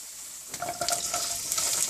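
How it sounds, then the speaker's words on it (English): Sliced mooli radish drops into a hot frying pan for a Punjabi mooli-baingan sabzi, setting off a steady close sizzle that swells and crackles with short bursts as the pieces settle and are stirred. "So here goes mooli, radish."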